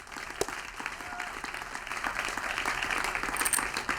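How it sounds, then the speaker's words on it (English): Conference town hall audience applauding steadily, a dense wash of many hands clapping that holds for several seconds at moderate volume without voices on top. "Could we give them a round of applause?"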